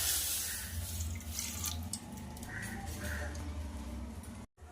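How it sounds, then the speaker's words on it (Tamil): Milk pours steadily into a pan for Tamil-style rusk halwa, a continuous close liquid splash lasting a few seconds before cutting off abruptly. "கொஞ்சம் பாலை ஊற்றிக்கலாம்"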